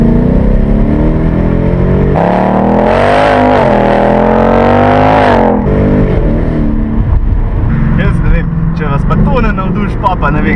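A 2018 Ford Mustang GT V8 with its 10-speed automatic, roof down, roaring as it accelerates through the gears with rising and falling engine pitch at close range while people talk over it.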